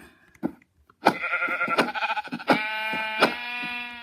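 Sheep in the Minecraft video game give several bleats, close and clear, one after another in a wavering, nasal sequence after a moment of quiet.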